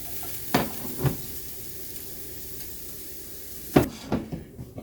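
Mushrooms frying in butter and garlic in a pan give a continuous sizzle, broken by a few sharp knocks and scrapes of a utensil stirring them, close and fairly loud.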